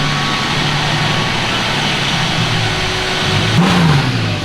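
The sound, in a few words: BMW E36 wagon engine revving as it is driven outside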